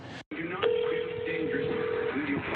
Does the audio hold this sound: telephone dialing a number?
yes